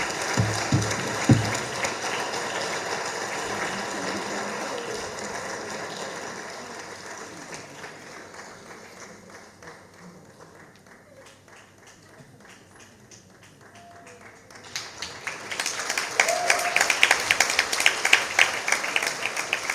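Audience applause at a literary festival event, a dense patter of clapping that thins and softens through the middle before swelling again, louder and brighter, toward the end, with no cheering voices standing out.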